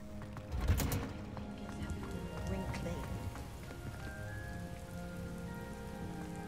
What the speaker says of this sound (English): Why do you have a rain cloud over you?